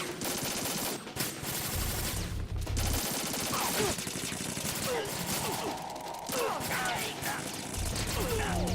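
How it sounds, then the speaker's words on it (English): Dense, continuous rapid gunfire with bursts and impacts from the action game Metal Gear Solid 2: Sons of Liberty, loud and chaotic, with occasional low booms underneath. "Use more gunfire."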